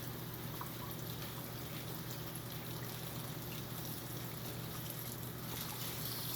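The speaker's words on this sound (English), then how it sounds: "Now I'm going to turn the water on and put this in the strainer like this." Tap water runs steadily into a kitchen strainer holding melon flesh and seeds, a continuous close hiss and trickle with no pauses and no voices.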